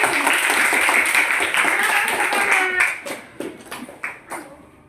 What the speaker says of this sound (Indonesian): Kasih tepuk tangannya untuk kelompok Melati